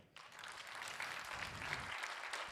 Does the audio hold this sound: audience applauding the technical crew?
yes